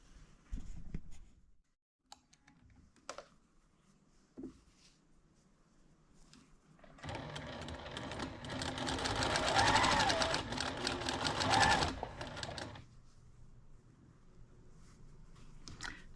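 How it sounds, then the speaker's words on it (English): A sewing machine stitches rows of a Thanksgiving table runner, starting with a few short bursts and clicks, then running in a long continuous buzzing stretch for several seconds before slowing to quieter handling sounds, with no talk. "let's sew those rows"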